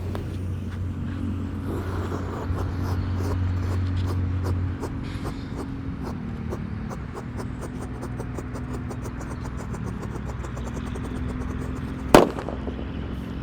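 A Disco Happy Flower firework fountain buried in the ground gives a steady hissing, crackling spray for several seconds over a low rumble, ending with one sharp loud pop near the end.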